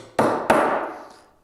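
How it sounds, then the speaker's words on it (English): Two sharp knocks in quick succession as wooden dowel rods are tapped into drilled holes in a woodworking bench vise, each hit ringing briefly before fading. "cut the dowel rods, and I'm putting those in."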